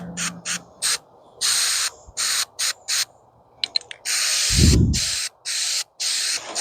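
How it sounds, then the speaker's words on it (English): Spray adhesive sprayed outdoors in short bursts of hiss repeating in an uneven rhythm, some brief puffs and some longer blasts, close and loud, with a low thump midway. "we're going to spray it with some spray adhesive"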